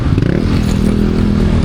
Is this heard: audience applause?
no